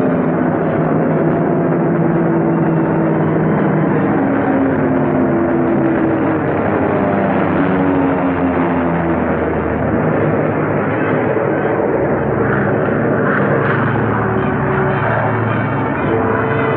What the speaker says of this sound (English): Six bombers went out, and 6 are coming back.